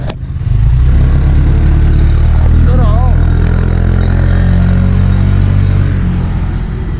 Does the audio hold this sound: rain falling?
no